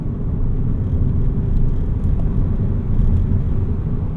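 A manual VW Golf MK6 TDI accelerates hard in 4th gear with its foot flat, giving a loud, continuous low diesel drone and rumble heard from inside the cabin. The level swells slightly as it pulls, and nobody speaks.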